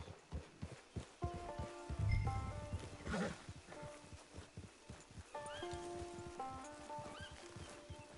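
A horse in a video game whinnies and snorts amid steady clip-clopping hooves on the approach to a camp and hitching post, with melodic background music throughout.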